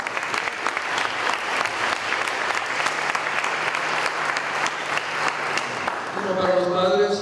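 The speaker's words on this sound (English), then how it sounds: "So let's give them a round of applause." Audience applause at a sports event, sustained steady clapping from a crowd that fades toward the end as a voice begins speaking.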